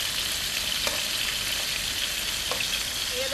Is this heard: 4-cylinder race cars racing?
no